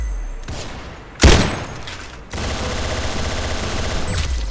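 Video game gunfire in the shooter Arsenal, a close burst of rapid shots followed by a sharp loud blast and then sustained automatic fire, with no talking.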